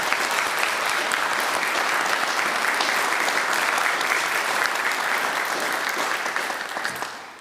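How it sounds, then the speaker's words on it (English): Audience applause in a church during a military retirement ceremony, a loud, sustained burst of many hands clapping that holds steady and then fades out at the end. "I just want to give them a round of applause."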